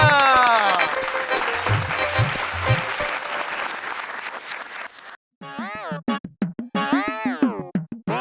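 Applause from a Bhojpuri comedy show audience fills the first five seconds as a dense wash, then cuts off and gives way to short bouncy cartoonish boing-like sound effects.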